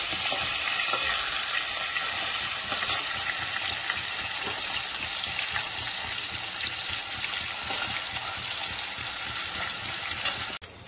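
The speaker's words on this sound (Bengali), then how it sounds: "মাছের মাথাগুলো ভাজা হয়ে গেছে" Hilsa fish heads fry crisply in a pan of oil, giving a loud, steady, continuous sizzle and crackle that runs unbroken for the whole stretch with no voices.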